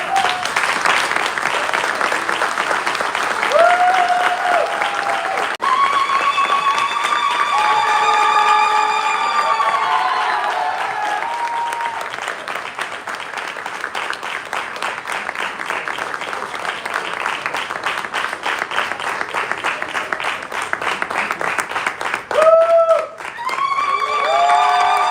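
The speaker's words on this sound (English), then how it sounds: "I want us all to stand and clap hands for her" A large standing audience claps steadily and loudly for a long stretch at the official sod-turning ceremony for the ARISE centre at UCT, with high tonal cheers or ululation rising above the clapping at times.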